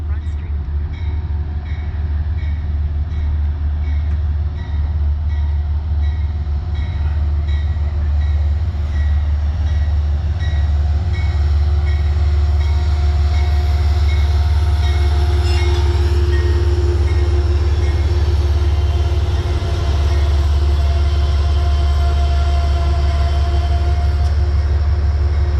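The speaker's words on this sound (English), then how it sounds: "Here's the southbound train to the city." Southbound passenger train pulling into the vintage station at Hudson, New York: a steady, loud low rumble and hum of the locomotive and cars, with faint squeals and clatter building toward the end.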